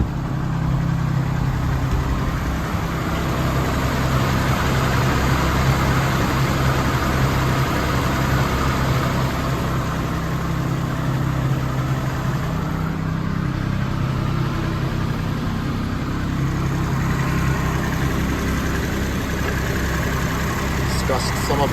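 A 1972 BMW Bavaria's engine and exhaust idle steadily after a cold start, a continuous low rumble heard up close outdoors for the whole stretch, with voices now and then over it.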